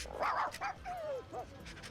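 A dog in the PlayStation 1 game Heart of Darkness barks and whimpers in a short run of yips and whines, close and fairly clear, with game sounds around it.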